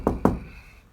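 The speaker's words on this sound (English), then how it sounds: "Knock on wood." Two quick knocks on wood, sharp and close, a short pause between them, then fading into quiet room tone.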